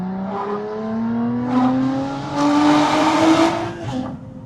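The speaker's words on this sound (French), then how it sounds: "On a le bruit du compresseur quand l'échappement fait pas encore trop de bruit." Lotus sports car with a supercharger accelerating through the gears with a six-speed robotised gearbox, heard near and loud: a climbing engine whine with supercharger whir, short dips at each shift, then rising again, with no talking.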